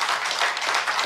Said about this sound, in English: please, a round of applause for John English